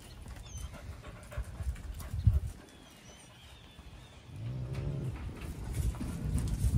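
A puppy pants in quick, close breaths while shuffling and scrabbling about, with soft thumps and a stretch of stronger movement noise in the second half.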